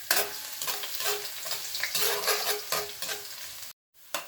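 Minced garlic sizzles and crackles in a hot pan while being stirred, a steady close frying hiss with scraping stir sounds, cut off by a brief silence near the end.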